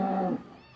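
Cow named Myrosya mooing in a children's cartoon, one short, loud low moo that cuts off quickly and fades.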